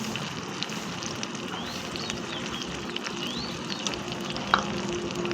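Dain fish cooking with spice paste in a pan, a dense continuous frying crackle and sizzle with stirring, close and steady, with one brief sharp sound near the end.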